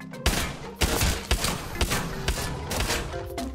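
Gunshots crack in a shooter video game, a loud close series of about eight evenly spaced heavy shots over a dense, busy game background.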